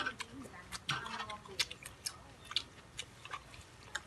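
Someone chewing crispy blanched squid tentacles and jaw, with faint, close crunching and clicking bites spread irregularly through a quiet background.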